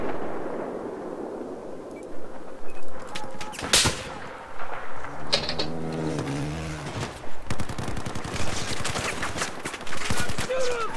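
Rapid automatic gunfire and scattered shots from a Battlefield 4 multiplayer match on the Altai Range map, heard in bursts of close and distant firing with a loud crack, clanking vehicle noise and background game chatter.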